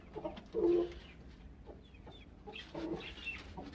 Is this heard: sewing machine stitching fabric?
no